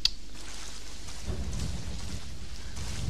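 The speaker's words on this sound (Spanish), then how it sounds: "Uy, hay tormenta aquí" Rain falls steadily with a low rumble of thunder during a storm in the video game Resident Evil 7, a soft, continuous wash with a brief louder crack at the start and no talking.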